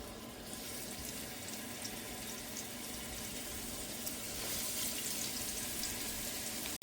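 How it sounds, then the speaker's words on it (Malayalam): Shrimp hit hot oil in a pan while cooking shrimp in coconut milk, giving a steady, fairly quiet hiss and crackle of frying that continues without pause and without talk. "എണ്ണ ചൂടായി. ഞാൻ ഇതിൻ്റെ അകത്തേക്ക് നമ്മുടെ ചെമ്മീൻ ഇട്ട് കൊടുക്കാൻ പോവുകയാണ്."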